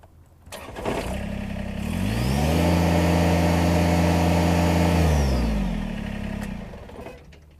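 A Kubota BX Series compact tractor engine revs up from idle to full throttle, holds a loud steady drone at close range for a few seconds, then winds back down.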